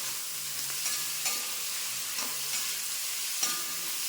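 Onions sauté with half a spoon of salt in a pan, a steady close sizzle and hiss with a few light scraping strokes of stirring, no voices over it.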